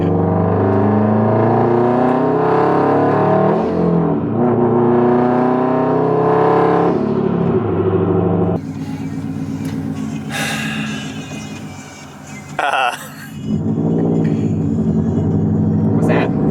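Subaru WRX STI with a 3-inch straight pipe exhaust cruising, a loud steady low engine drone heard from inside the car with windows closed, shifting in pitch as the revs change, with brief quieter moments.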